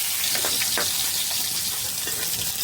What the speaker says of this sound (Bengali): মাছটা একটু লাল লাল করে ভাজবো